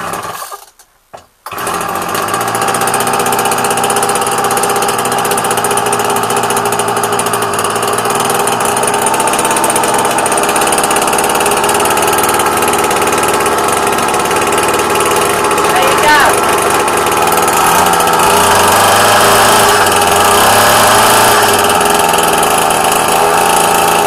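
A Flymo lawn mower engine cold-starts with a short pull, then runs at a steady, loud, close drone with slight speed changes throughout.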